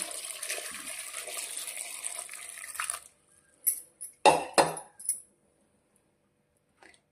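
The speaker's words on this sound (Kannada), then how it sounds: "ಆಮೇಲೆ ಇದಕ್ಕೆ ಸ್ವಲ್ಪ ವಾಟರ್ನ ಹ್ಯಾಡ್ ಮಾಡ್ತಾಯಿದ್ದೀನಿ" Water poured into a cooking pot of dal, a steady splashing pour for about three seconds, followed by a few short clinks and knocks of the pot and utensils, then quiet.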